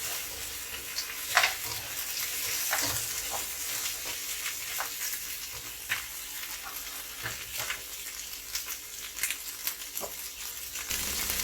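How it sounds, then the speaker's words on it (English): Crab sizzling and frying in a pan, a steady crackling hiss with occasional sharper pops and stirring scrapes throughout, close and fairly quiet, no voices. "So just fry it until it turns red."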